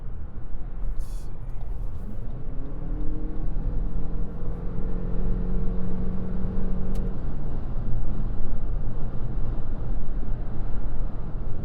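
A 2026 Lexus NX 450h+ Luxury AWD hybrid SUV cruising on a highway, a steady broadband road and tyre roar with a low, smooth drivetrain hum inside the cabin, constant and fairly loud.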